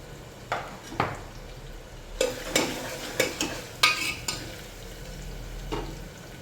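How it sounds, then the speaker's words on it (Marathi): Cumin seeds tipped into hot oil while cooking a spicy Khandeshi-style country chicken curry, giving short crackling sizzles and stirring scrapes in scattered bursts, fairly close and moderately loud. "जिरे टाकून घ्यायचे आहे."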